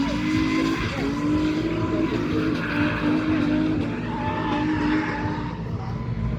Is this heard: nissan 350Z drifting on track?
yes